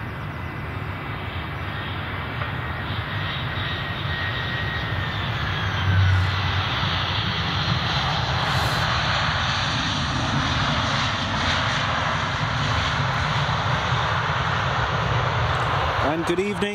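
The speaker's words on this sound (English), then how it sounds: "it's a Finnair A319, that's this one coming in." A Finnair Airbus A319 jet comes in to land at Edinburgh Airport, its engines a loud, steady roar that swells slightly and holds throughout, with someone talking over it.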